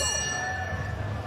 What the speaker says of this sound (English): To the bell they go.